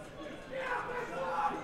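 A distant crowd roars and cheers at a championship card-game final, a swelling wash of many voices at moderate level, rising toward the end.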